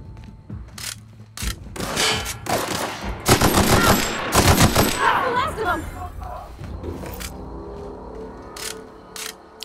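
Shock cannon fire in the sci-fi video game The Outer Worlds: loud, rapid bursts of energy-weapon shots and clattering impacts crowd together in a heavy volley, then thin out to scattered effects under voices.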